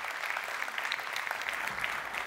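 Dense, sustained applause from an audience at a public presentation of a provincial administrative building project, many hands clapping at once at a steady level without a break.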